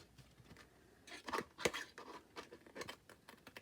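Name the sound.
scissors snipping card at an angle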